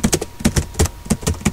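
Typing on a computer keyboard while entering axis labels into an Excel chart: a quick run of close, crisp key clicks in uneven bursts, with no voices.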